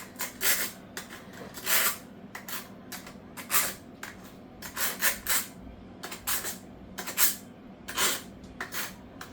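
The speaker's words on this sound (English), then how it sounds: "I gotta see if I can sharpen this up because it's giving me a hard time." A serrated knife is drawn repeatedly through a small sharpening gadget, making about a dozen short, rasping strokes in an uneven rhythm, close and fairly quiet.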